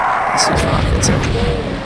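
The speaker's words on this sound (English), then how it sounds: "Let's use rockets. I got so many rockets." Rockets fire from the launcher in the video game Doom 2, a couple of quick sharp blasts with booming low rumble, heard loud over continuous game noise.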